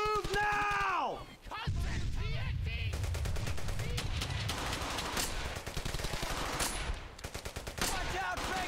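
In the World War II shooter Brothers in Arms: Hell's Highway, rapid sustained rifle and machine-gun fire crackles loudly and continuously, with a groaning voice at the start and shouted talk mixed in.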